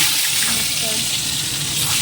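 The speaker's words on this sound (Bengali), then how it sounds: "মাছটাতে নুন হলুদ মাখিয়ে এটাকে ভাজতে দেবো" Small fish rubbed with salt and turmeric frying in hot oil in a kadai, a loud, close, continuous hissing sizzle that holds steady throughout.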